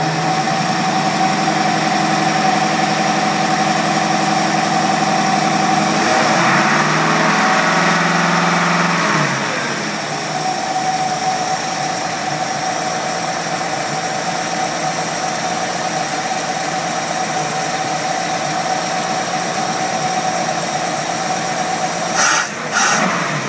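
Car engine fitted with a Rochester single-barrel carburetor idling, missing a part needed to set the idle, a loud steady rumbling hum with a brief dip in pitch midway and a faint clunk near the end.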